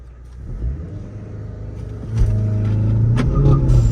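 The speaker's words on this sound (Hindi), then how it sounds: "इनिशियल से ही जो है आगे व्हील स्पिन ही व्हील स्पिन" Skoda Octavia VRS 230 launching from a standstill in sports mode with traction control off on a wet road in a drag race against a Jaguar XF, its engine rumbling and revving up loudly, with the launch surging and growing heavier partway through.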